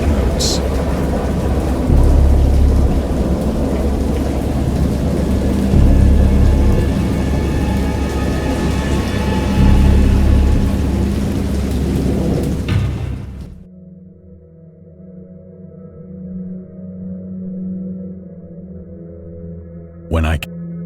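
A thunderstorm with heavy rain roars in the Dagon video game, steady loud downpour and rumbling thunder for most of the stretch, then cutting abruptly to a quiet low hum with a brief sharp sound near the end.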